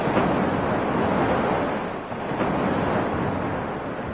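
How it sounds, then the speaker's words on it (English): Waves pound the shoreline of Lake Tanganyika in a steady, loud roar of surf, with gusty wind noise across the microphone and no voices. "With the opposite shore out of sight, and with waves pounding its coastline, only the water's taste testifies to its true origin."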